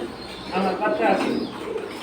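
Pigeon cooing at a busy pigeon market, where silver and almond birds are on sale, a soft throaty coo under nearby talk and crowd chatter.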